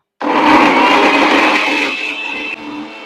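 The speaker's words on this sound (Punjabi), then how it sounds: "ਆਪਾਂ ਮਿਰਚਾਂ ਤੇ ਟਮਾਟਰ ਗ੍ਰਾਈਂਡਰ ਕਰਨ ਲੱਗੇ ਆ" An electric mixer grinder whirs loudly as it grinds green chillies and tomatoes, a steady dense roar that starts abruptly, runs on continuously and drops slightly in pitch and level near the end.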